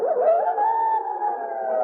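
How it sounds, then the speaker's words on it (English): A wolf pack sends up a drawn-out, wavering howl as a radio drama sound effect, sustained and fairly loud with blended voices rising and holding steady. "He knew from the shrill pitch of the pack's cry that the wolves were out for blood."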